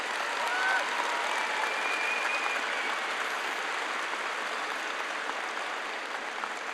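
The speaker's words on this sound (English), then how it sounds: "I hope everyone will join me in giving him a round of applause" A commencement crowd at Brighton High School's class of 2023 ceremony applauds the principal with steady, even clapping that sounds somewhat distant and soft, holding for several seconds without a break.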